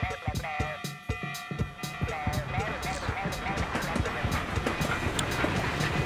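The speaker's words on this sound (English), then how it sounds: "the train's back going again now" A train running in the video game Stretchers, with rhythmic clacking and knocking beats over a sustained mechanical hum and tonal whine, moderately loud and continuous.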